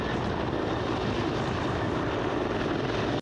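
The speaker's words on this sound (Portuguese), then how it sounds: "Helicópteros sobrevoaram toda a região." Police helicopters fly over a wide search area in a steady, loud rotor and engine roar that holds without break.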